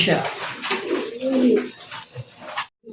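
Fancy Lahori pigeons coo in a low, rolling murmur near the listener, with other pigeon sounds around them and a voice speaking over part of it.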